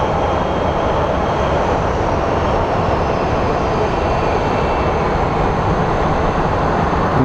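A jet airliner departs Phoenix Sky Harbor for San Diego, its engines a steady, loud broadband roar that stays unbroken and fairly close throughout, with no voices heard.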